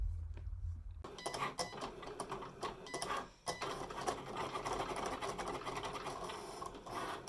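A Cricut cutting machine with a scoring stylus and fine-point blade working cardstock, giving a busy mechanical whirring with rapid ticks and carriage movements, steady and close, starting after a short quiet moment.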